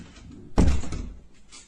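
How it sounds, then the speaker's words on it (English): A bedroom door slams shut indoors with a single loud, heavy thud, then a short echoing decay into quiet room tone. "his bedroom door to suddenly slam shut behind him"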